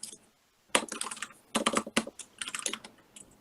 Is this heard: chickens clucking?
no